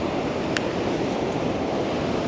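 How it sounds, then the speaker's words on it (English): Rapids and waterfall water at White River Falls in Eastern Oregon rush in a loud, constant broadband roar without pause, with a tiny click partway through. "And then the rapids that are happening down here in the lower left, absolutely fantastic."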